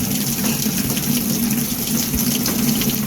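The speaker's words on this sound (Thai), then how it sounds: "ไหลแล้วนะน้ำไหลแล้ว" Water gushes steadily into the tub of an LG washing machine that fails to cut off its fill. The flow stays constant and close, with no voices.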